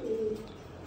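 A racing pigeon gives a single short, low coo at close range over a soft background hum.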